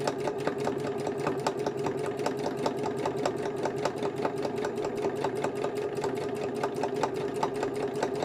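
A sewing machine runs steadily through the whole stretch, its rapid, even needle rhythm close and continuous as it stitches leaf shapes on gardening journal covers.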